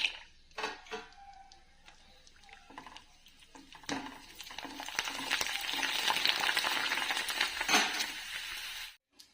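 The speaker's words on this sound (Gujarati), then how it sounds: "આપણે છે ને પહેલાં બધા ભૂંગળા તળી લઈશું" Bhungla fryums fry in hot oil in a wok with a steady crackling sizzle that swells and intensifies, broken by a few utensil clinks, before cutting off abruptly at the end.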